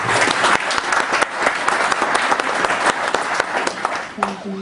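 Loud, dense audience applause at a dinner event honoring a guest, steady clapping filling the room for several seconds and tapering near the end.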